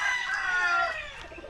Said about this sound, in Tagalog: Grabe na yung manok ni mo diri.